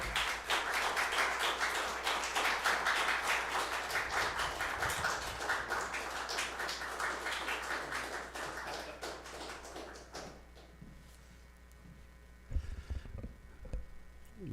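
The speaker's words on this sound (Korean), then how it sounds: "우리 목사님 나오실 때 다 같이 박수로 환영하겠습니다." Church congregation clapping together to welcome the pastor at a Sunday service: dense, sustained applause that gradually thins out and stops near the ten-second mark, leaving a quieter room with a few soft bumps.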